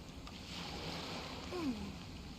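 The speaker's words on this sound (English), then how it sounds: "The sound of the ocean waves." Ocean waves in the video game Genshin Impact wash in as a soft, steady surf hiss with a gentle swell, heard alone at a low level with a brief faint tonal sweep near the end.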